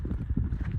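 Hooves clip-clopping in a quick, steady rhythm, close by and fairly loud, with no voices.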